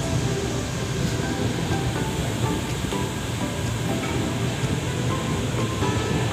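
Trains rumble through the Gorakhpur Junction rail yard in India, a continuous heavy low roar with clattering metallic noise throughout, no voices.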